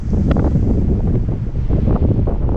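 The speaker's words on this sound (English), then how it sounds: "So look at it, very windy out there." Strong wind buffets the microphone outdoors on Bell Island, Newfoundland, a loud continuous rumbling roar with gusty swells and no speech.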